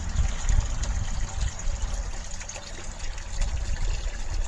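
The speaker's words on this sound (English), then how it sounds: "So this is flush number 3." A hall bathroom toilet at a house runs its third flush in a flow test, with a steady close rush of water that holds throughout.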